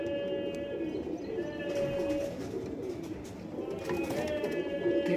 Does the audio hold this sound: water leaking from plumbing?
no